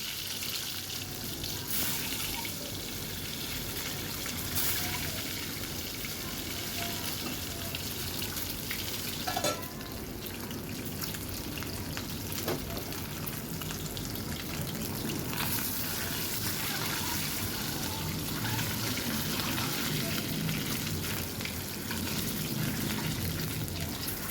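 Eggs frying with turmeric in a pan, a steady broadband sizzle that holds at an even level the whole way through with a few brief clicks and clatters, close and fairly loud with no talking.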